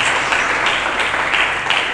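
Loud, dense applause from a church congregation at a sermon, a steady wash of many hands clapping together for the full stretch with no talk.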